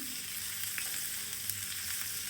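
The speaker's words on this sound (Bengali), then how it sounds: "প্যানের উপরে পরিমাণ মতো সরষা তেল দিয়ে দিলাম এরপরে এক চামচ রসুন দিয়ে দিলাম" Garlic frying in mustard oil in a pan gives a dense, steady hiss with faint pops and crackles, close and continuous, with no voices.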